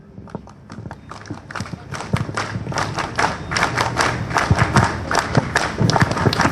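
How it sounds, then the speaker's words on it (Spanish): A crowd claps loudly and densely at a political anniversary commemoration in Casa del Pueblo, the applause building steadily and continuously with scattered thumps. "¡Fuerte palmas a pista, compañeros!"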